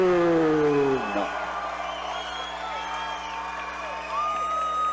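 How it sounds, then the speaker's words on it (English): Crowd at a Cage Titans 52 MMA event roars and cheers as the fighters are introduced, a sustained noisy swell running under an amplified announcer's voice. "So the crowd goes nuts"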